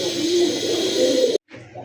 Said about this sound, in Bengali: অল্প দামে খুব সুন্দর একটা হাইফ্লার কবুতর